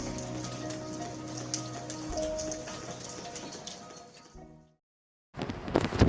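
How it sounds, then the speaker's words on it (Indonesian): Steady rain patters and splashes on surfaces, a dense continuous hiss that cuts to silence for about a second, then returns loudly. "hujan yang turun membasahi bumi"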